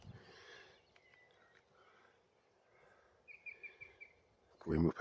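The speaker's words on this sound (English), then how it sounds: "Now listen to this song thrush." A song thrush sings faintly in the distance outdoors, giving a short series of repeated high phrases over a quiet background. A dull thump comes near the end.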